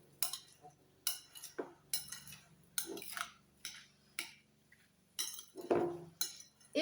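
Fresh fruit being mixed with Madagascar vanilla and cane sugar in a bowl, with a spoon clinking and scraping against the bowl in irregular strokes, close and fairly quiet.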